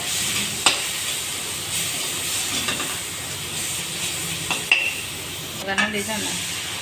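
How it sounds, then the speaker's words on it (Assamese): Turmeric and spices fry in a pan in a home kitchen, giving a steady, close sizzling hiss with a few sharp clicks of a stirring utensil and no talking. "ইয়াতে দিলে হালধি আৰু এইখিনি আকৌ অকণমান সময় ভাজি লৈছে"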